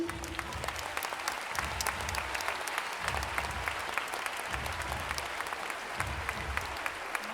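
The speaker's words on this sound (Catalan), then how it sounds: "demano un fort aplaudiment per ells" Applause at an end-of-year school celebration for graduating students, a dense, steady wash of many hands clapping together that carries on without a break from start to finish.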